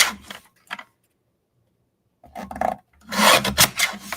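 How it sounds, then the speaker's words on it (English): A blade or trimmer rasps across the edge of a card in short scraping bursts. A brief stroke comes first, then a pause, then longer, louder strokes of trimming. "Gotta just trim a little bit off."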